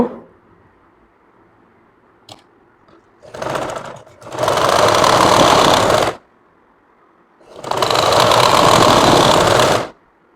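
Sewing machine stitching a sleeve onto a kameez, running in two long, loud continuous bursts of about two seconds each, preceded by a shorter start-up run, with quiet pauses between.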